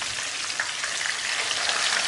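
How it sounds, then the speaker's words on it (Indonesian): A large marinated fish frying in a wok of hot oil gives a dense, even hiss and crackle throughout, steady and moderately loud with no voices. "Kalau sudah selesai di marinasi selama 20 menit, siap kita goreng."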